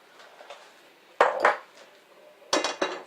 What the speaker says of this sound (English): I'll take the pot and drain the pasta